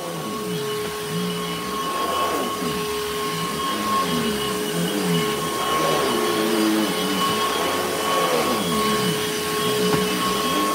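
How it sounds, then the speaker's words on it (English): A vacuum cleaner runs steadily up close with a high whine, its pitch rising and falling slightly as it is pushed back and forth. "Now, last vacuum of the stream."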